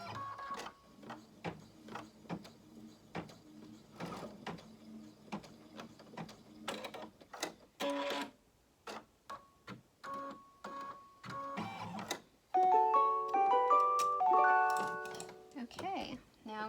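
A Baby Lock Destiny II embroidery machine stitches a polyester shirt with rapid mechanical ticking and whirring in bursts, close by, with several electronic beeps near the end and some talk mixed in.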